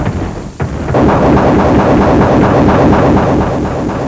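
Machine gun fire in a video game, a loud continuous rapid rattle that starts after a brief pause and runs steadily to the end.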